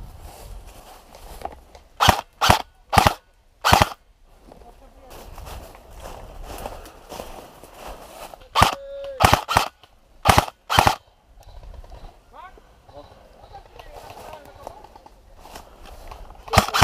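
Airsoft guns fire during an outdoor game at Drop Zone One in Dobra Szczecińska, Poland, with sharp, loud single shots and short clusters that crack out at intervals over rustling movement and faint voices.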